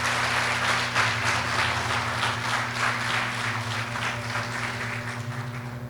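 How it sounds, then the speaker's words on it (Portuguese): Church congregation applauding, a steady wash of clapping over a constant low hum, continuing evenly throughout. "Pode aplaudir ao Senhor."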